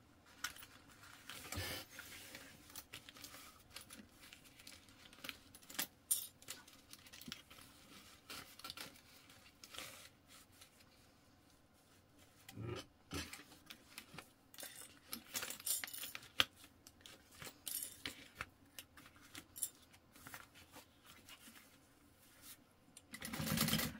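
Metal sewing clips are pulled off a fabric tote bag one after another, giving scattered small clicks and rattles in irregular bursts close by, with quiet gaps between handling noises and no talking.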